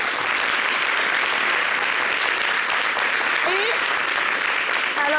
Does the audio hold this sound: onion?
no